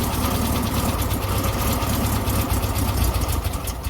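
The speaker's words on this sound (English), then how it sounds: "That is an idling van." A van engine idling, a steady, continuous mechanical drone with an even rumble throughout, fairly loud and close, with no talking.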